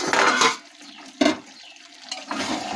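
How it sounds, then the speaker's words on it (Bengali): A lid is lifted off a cooking pot of chicken and capsicum curry, giving a single sharp metallic clank between softer bursts of bubbling and stirring noise, close by and alone without speech. "একটু ঢাকাটা আবার খুলে নেব।"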